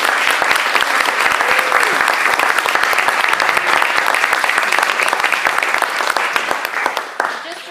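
A talk audience breaks into loud, sustained applause, dense steady clapping that carries on for several seconds before tapering slightly at the end, with a voice briefly audible near the close.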